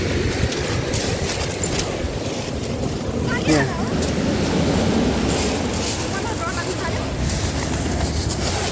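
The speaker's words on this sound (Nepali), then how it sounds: "छालले हाल्यो" Ocean waves surge and break on the shore in a continuous rumbling wash, with wind buffeting the microphone and voices faintly underneath.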